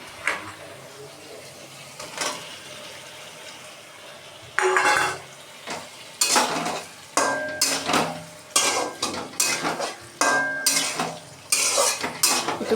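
Fried pointed gourd pieces are stirred into poppy seed gravy in a pan, a series of loud, close metal scrapes and clanks in irregular bursts over a soft simmering bubble, with no voices.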